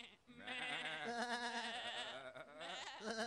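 Cartoon sheep bleat in a long, wavering, nasal cry that rises and falls over about three seconds, loud and close with no talk over it.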